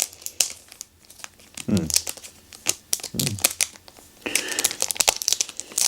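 Plastic shrink wrap peeled off a Bag of Dungeon board game box: close crinkling and tearing in bursts, with a longer rustle near the end, under intermittent talk.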